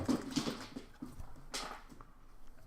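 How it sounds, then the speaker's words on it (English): A restless dog whimpers in thin, high whines between thudding, scrabbling footfalls on stairs, a sharp clatter midway, all fairly faint and close. "My dog is just going crazy. No idea why."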